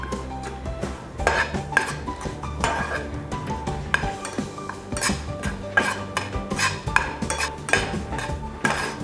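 A metal spoon stirs semolina in oil in a pan, scraping and clinking against the sides in a busy, irregular rhythm, close and loud with a faint sizzle beneath.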